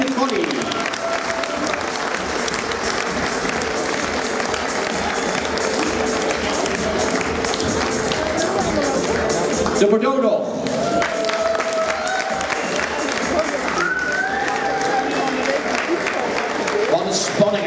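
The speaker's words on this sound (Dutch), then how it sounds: "Een applaus, dames en heren." Steady audience applause fills a Dutch dog show ring, the Hond van het Jaar best-in-show, as a Bearded Collie is presented, with an announcer talking over the clapping throughout.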